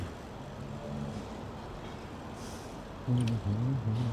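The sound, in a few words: bus driving past in Paris traffic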